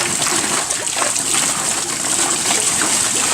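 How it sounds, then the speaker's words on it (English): A turning water wheel on a farm in Vietnam, with steady splashing and trickling water running continuously at close range with no pauses. "Water wheel."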